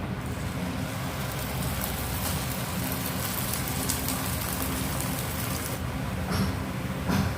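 Browned chicken pieces frying in a pan as onion and almond paste goes in, giving a steady, dense sizzle and hiss that runs throughout with no talking.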